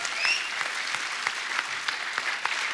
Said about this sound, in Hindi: और एक बात के लिए और तालियां बनती है